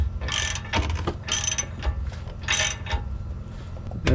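A ratchet clicks as it screws a bolt into a leveling key on a Silverado truck torsion bar, several quick bursts of close, sharp metallic clicking separated by short pauses.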